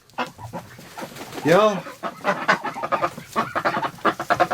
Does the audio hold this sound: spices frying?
no